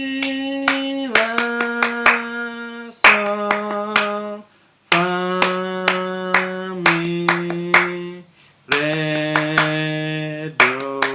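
A teacher sings solfège syllables in a class while clapping hands in rhythm, sharp regular claps punctuating each sustained sung note, close and clear.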